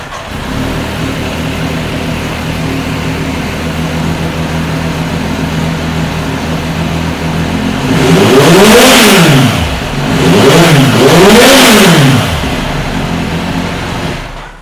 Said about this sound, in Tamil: இப்போ வண்டி இது ஸ்டார்ட் பண்ணி காட்டுறேன் பாருங்கள்